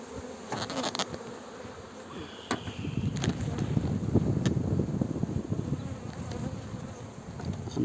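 Honeybees swarm around an open hive in Muğla, Turkey, during an April colony inspection, giving a dense, continuous close-up buzz with occasional wind rumble on the microphone.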